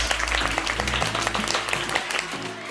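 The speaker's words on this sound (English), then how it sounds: "please give a big round of applause for Sankofa Stoles" Sustained audience applause at a virtual pitch event, many hands clapping together steadily throughout, with a hint of cheering voices in the crowd.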